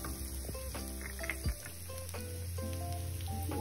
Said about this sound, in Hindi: ये पूरा मिश्रण तेल में डालेंगे। थोड़ा सा फ्राई करेंगे